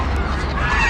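Domestic ducks and geese at a market, a dense continuous chorus of honking and quacking birds close by, filling the whole second with no talk.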